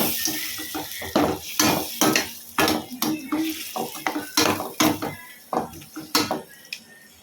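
A spoon stirs turmeric-washed chicken pieces through a pan of Kerala chicken curry, giving a run of loud, uneven clanks and scrapes against the metal. The strokes come in irregular bursts close by, with no talking.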